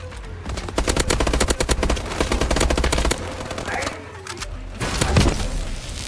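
Rapid automatic gunfire from Call of Duty Exo Survival on the Detroit map, dense bursts of shots rattling continuously with brief pauses, loud and close, with faint game sounds mixed in.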